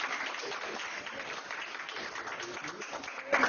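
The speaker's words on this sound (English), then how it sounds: "Why don't we just give her a round of applause" Attendees at an academic talk on research and social media give Dr. Blythe a round of applause, a steady, moderately loud spread of clapping with a slight swell near the end.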